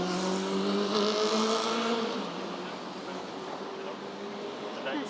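City street traffic on a Friday evening in Singapore near Far East Square, with a car engine idling at a crossing amid steady urban background noise, a louder passing rumble in the first two seconds.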